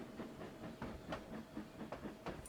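Train in the Trainz Railroad Simulator 2019 game running on the Cornish Mainline, giving a faint, steady clickety-clack of wheels over rail joints with soft rumbling in between, quiet and with no voices.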